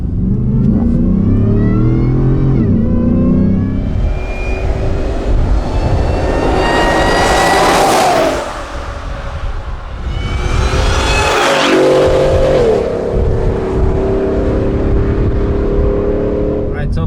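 A 750HP Shelby F150 truck accelerates hard on a slight uphill grade in a 0 to 60 run, loud engine revving climbing through gears with a shift break midway, with talk heard alongside.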